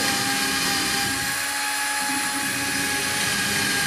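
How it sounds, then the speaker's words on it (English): A steady, high-pitched whine of a power drill running continuously, drilling pilot holes for a hinge on a wooden beehive box, fairly loud and close, with no talking. "get our hinge all lined up, drill my pilot holes"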